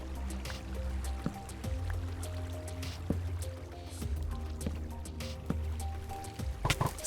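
Water flows in Minecraft with a soft continuous trickle and wash, broken by scattered clicks and small thuds, fairly quiet with no speech.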